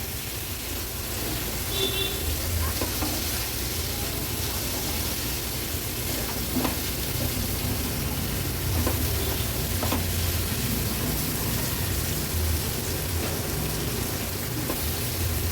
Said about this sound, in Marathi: हाय फ्लेमवर व्यवस्थित आपण बटाट, टोमॅटो, कोलब्या मिक्स करून घ्यायचे.